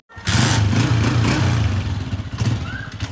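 A motorcycle engine runs steadily nearby with a low, continuous drone and a little clatter, its level rising and falling slightly toward the end; no one speaks.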